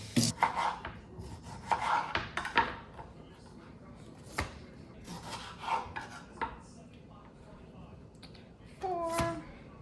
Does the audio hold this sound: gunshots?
no